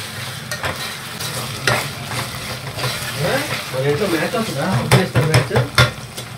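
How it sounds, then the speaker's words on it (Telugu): Spices fry in hot oil for a chicken liver fry, with a constant close sizzle and scraping stirring strokes, while a person talks over the cooking. "పచ్చి వాసన పోయేంత వరకు కూడా మనము ఇందులో వేయించాలి"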